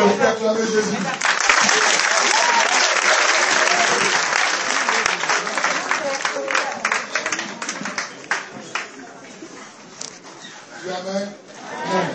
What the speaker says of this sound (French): J'applaudis à Amen